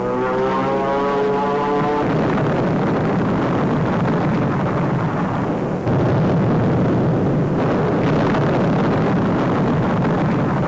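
An overloaded WWII military propeller plane drones in a steady harmonic roar, then the sound gives way to a dense, rumbling blast of noise that continues loudly, with sharper bursts near six and eight seconds.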